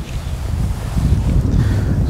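Strong wind buffeting the microphone at a fishing lake, a loud continuous low roar with gusty swells throughout, no voices.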